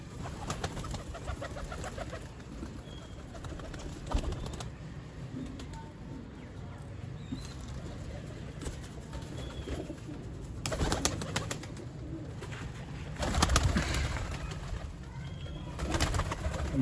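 Pigeons in a Rawalpindi rooftop loft coo softly and repeatedly against a constant background hum and occasional rustling, with a few louder bursts of noise near the end.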